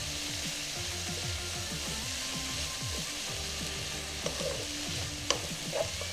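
Kimchi and fresh garlic stir-fry in a pan for vegan kimchi fried rice, giving a steady sizzle with a spatula scraping and stirring in rhythmic strokes and a few sharper clinks near the end.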